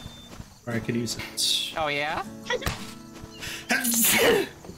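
A single person sneezes sharply while people chat casually over quiet game music and sound effects.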